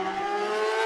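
A Paul Bird Motorsport superbike revs hard at the start of a TT superbike race, a dense, steady high-pitched engine howl held at high revs through a short burst, loud and alone.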